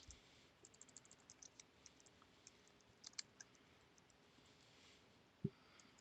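Keys on a computer keyboard are tapped in quick, faint clusters of clicks, a short burst of typing followed by scattered keystrokes and one or two louder thumps, close but quiet with no talking.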